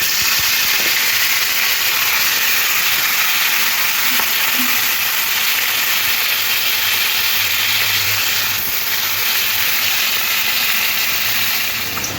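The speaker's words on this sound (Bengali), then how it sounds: "নুন আর হলুদ মাখা ভোলা মাছগুলো একটা একটা করে তেলের মধ্যে ছেড়ে দেবো" Salted, turmeric-coated Bhola fish fry in very hot oil, giving a loud, dense, unbroken sizzle that holds steady throughout with no voices.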